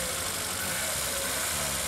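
A 1946 Crosley pickup's small engine idles steadily nearby, a continuous rough mechanical rumble with slight knocking character, heard alone without voices.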